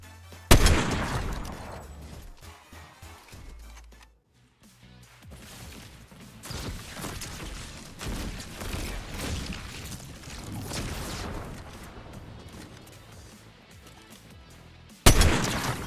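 Sniper rifle shots in Valorant, sharp loud cracks with one hitting near the start and another near the end, separated by a stretch of busier, mid-level game noise and scattered clatter.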